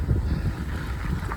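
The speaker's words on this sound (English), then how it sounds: "Sure is windy." Strong gusts of around 50 mph roar across the microphone outdoors on a hillside road during a fat-tire e-bike ride, a loud continuous buffeting rumble with no voices.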